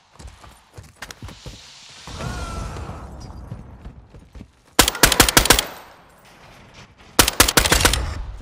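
Bursts of automatic gunfire in Warzone 2 crack out in two loud volleys, the first short and the second longer, separated by quieter in-game rumble and mechanical clatter.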